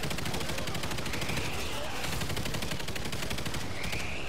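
Rapid video game gunfire rattles continuously in dense bursts while players shoot at eggs, steady and fairly loud with faint voices underneath.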